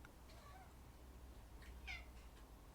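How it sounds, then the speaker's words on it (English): A cat meows quietly a couple of times, the clearest call near the end, over a low steady hum with no one talking. "Oh, here comes the cat."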